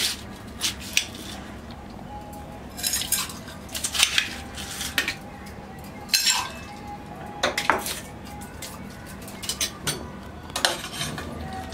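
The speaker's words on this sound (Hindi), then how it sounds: "थोड़ी सी आइस क्यूब।" Ice cubes clink and rattle into a glass of chilled milk in short bursts of sharp knocks, close and fairly quiet.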